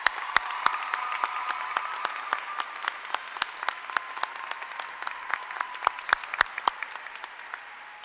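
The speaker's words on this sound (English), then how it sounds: "Please join me as we applaud their support of and dedication to the success of our students." An audience at a nursing school graduation ceremony applauds steadily and loudly in a large hall, with a dense wash of clapping and a few sharper claps standing out nearby.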